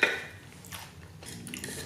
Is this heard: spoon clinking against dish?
yes